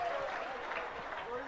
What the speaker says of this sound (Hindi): जोरदार तालियों के साथ अनुमोदना करिए